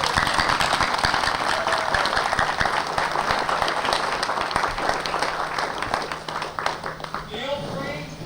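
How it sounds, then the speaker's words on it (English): A Veterans Day crowd applauds veterans at an outdoor gathering, with steady, full clapping from many hands throughout and voices mixed in beneath it. "Let's have one more round of applause for all of our veterans."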